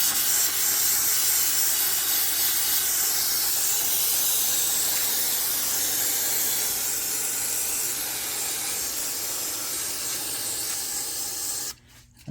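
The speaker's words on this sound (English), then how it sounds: "just spray this thing down a little bit" Aerosol spray hisses steadily and continuously onto the carburetor of a large-engine Snapper walk-behind mower, a loud close jet held for about eleven seconds before cutting off abruptly.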